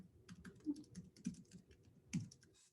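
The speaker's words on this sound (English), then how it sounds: "typing" Keys clatter on a computer keyboard while text is entered into a form field, an irregular run of soft, close clicks with a few heavier taps and no voices.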